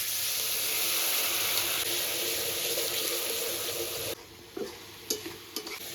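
Onion and garlic sautéing in a pan with spices, salt and coriander powder, a dense steady sizzle that cuts off sharply partway, followed by a few spoon scrapes and clinks.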